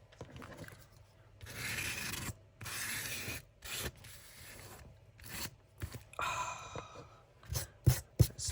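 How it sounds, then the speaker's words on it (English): Sandpaper rubs around the edge of a junk journal craft piece in short bursts of scratchy abrasion separated by pauses, close and fairly loud, ending with a few quick knocks. "Let's do a bit of sanding around the edge."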